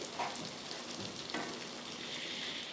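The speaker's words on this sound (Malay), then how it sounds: "Goreng cili, minyak kena cukup eh supaya dia mudah garing" Continuous crackling and sizzling of chili paste frying in hot oil, with scattered pops, at moderate volume and no voices.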